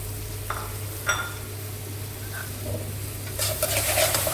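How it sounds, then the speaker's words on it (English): Crispy pork belly slices get stirred into a sizzling sauce in a pan, with a steady sizzle under scattered spatula scrapes and clinks, growing busier toward the end. "Add the crispy pork belly slices and stir them into the sauce."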